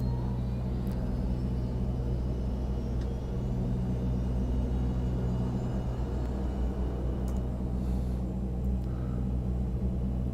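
A King Air C90 turboprop engine spools up in the X-Plane flight simulator game as a constant low droning rumble and a faint rising whine, steady and unbroken.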